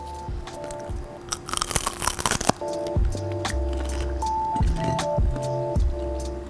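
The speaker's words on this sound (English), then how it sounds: "I'm grabbing this microphone so you can hear the crunch of this." Crisp crunching of food during home sushi preparation, held close to a microphone, comes in a quick burst of bites and crackles over a faint steady tonal background.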